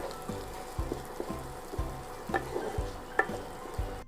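Ginger, garlic and green chili sauté in a pan with soft sizzling, punctuated by repeated scraping strokes of a stirring spoon at a steady rhythm, fairly quiet.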